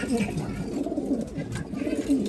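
Racing pigeon cooing in low repeated throaty coos, close by, with continuous background noise and no clear speech over it.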